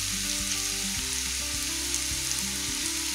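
Yam pieces fry in a pan with chillies, giving a steady, dense hiss and crackle throughout, with a few soft knocks of a spoon against the pan.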